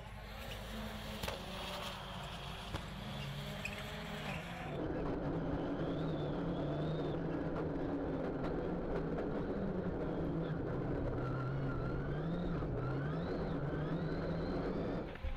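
A Peugeot 208 rallycross supercar limps along slowly with a broken drive shaft. Its engine drone is steady and wavers in pitch, following a rougher, noisier stretch in the first few seconds.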